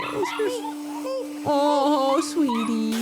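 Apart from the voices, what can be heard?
puppy whimpering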